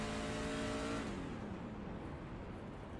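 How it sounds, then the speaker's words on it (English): NASCAR Class C race cars in iRacing at Rockingham roar loudly with a steady engine drone, one car's revving tone dropping in pitch as it passes close by, then a dense pack of engines rumbling on without any talk. "Race cars out."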